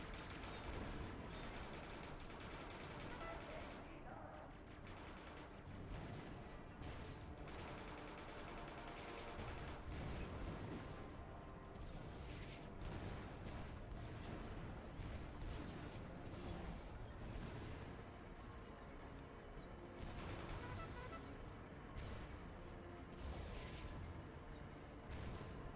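A heavy tank firing on infantry grunts in Battalion Wars 2: continuous dense battle noise with repeated cannon blasts, rattling gunfire and mechanical clanks throughout.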